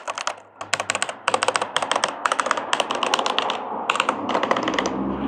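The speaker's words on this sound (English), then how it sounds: "This is honestly like my favorite keyboard. For the switches, I got creamy switches." Mechanical keyboard fitted with creamy switches being typed on, a close, steady run of soft clacky keystrokes in quick bursts with brief pauses, no talking.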